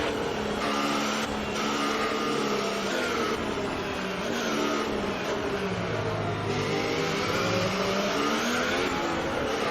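A race car accelerates away from a pit stop at the Shanghai circuit in a racing video game, its engine revving steadily and loudly through rising and shifting gears, close and continuous without voices.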